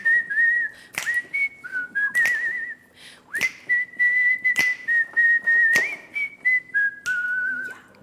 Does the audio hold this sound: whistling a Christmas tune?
yes